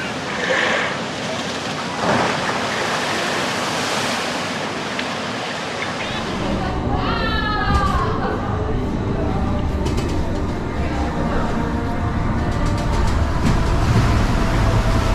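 A water coaster ride at Europa Park, heard from on board in winter: a steady rushing roar of water and rolling track noise, with a rattling clatter midway and continuous wind-like wash building to the end.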